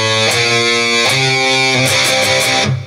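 Heavily distorted electric guitar plays a chugging riff, with palm-muted chords struck in a quick down-up rhythm, loud and dense throughout with no voice.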